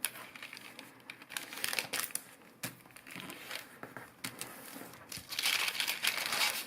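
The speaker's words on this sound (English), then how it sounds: "we're gonna make the middle lines even finer by folding the corner up to here" Paper being folded into an origami scorpion, close crisp crinkles and creases coming in quick bursts with short pauses between folds.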